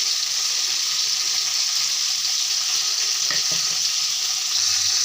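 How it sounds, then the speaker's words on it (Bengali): Eggplant with spices, Kashmiri chilli, cumin and coriander powder, frying in a pan with a little water, a steady close sizzle and light stirring knocks. "এখন অল্প সময় ভালো করে বেজে নেবে মশলাটা"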